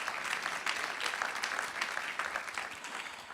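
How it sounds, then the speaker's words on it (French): An audience at a 2015 sustainable construction awards ceremony applauds a winner. The clapping is soft, steady and fairly distant, and it holds evenly throughout. "Oui, on peut l'applaudir"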